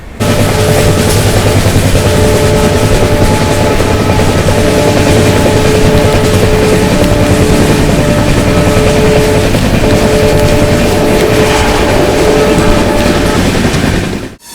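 An Indian express train runs fast on the rails with a loud, steady, close roar and rumble that holds the whole time without a break and has no voices over it.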